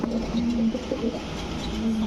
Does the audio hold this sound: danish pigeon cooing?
yes